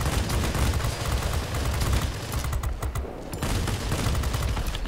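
Bf 109 G fighter guns in World of Warplanes, firing in long, loud rattling bursts that break off briefly partway through and then resume.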